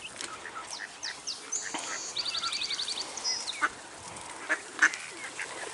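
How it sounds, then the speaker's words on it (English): Ducks and ducklings being fed at a marsh in Sechelt, British Columbia, give fairly faint, scattered quacks and short runs of rapid peeping calls over quiet outdoor background, with no talking. "We're gonna feed the duck babies."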